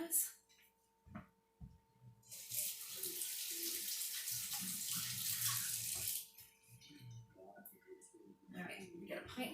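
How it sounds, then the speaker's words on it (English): Running tap water pours loudly for several seconds as hands are washed under it while making homemade sauerkraut, with softer clatter and movement before and after the flow stops. "Let me wash my hands."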